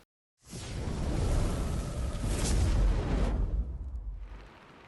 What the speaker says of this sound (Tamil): நல்ல மழையோட இந்த நாள் எங்களுக்கு ஸ்டார்ட் ஆகுது